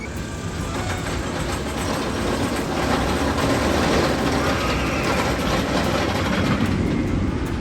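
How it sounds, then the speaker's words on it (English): Train on the Iron Rattler roller coaster at Six Flags Fiesta Texas climbing the lift hill, a steady loud rumbling and clattering drone with crowd ambience behind it and no clear talk. "There's the train going up the lift hill."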